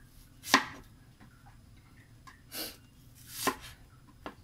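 Ginger is pounded for a coconut-milk tulingan fish dish, with three or four separate dull thuds spaced about a second apart against a quiet background and no talk.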